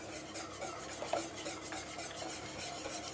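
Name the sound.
whisking creme fraiche into carrot soup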